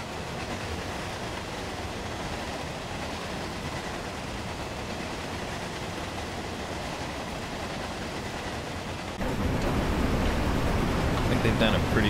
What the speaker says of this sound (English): Just the clickety-clack, clickety-clack,